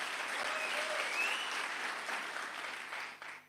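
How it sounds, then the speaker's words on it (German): A congregation applauds during a wedding in a church service, a dense, even patter of clapping that holds steady, then thins and tapers off toward the end. "Ein Applaus."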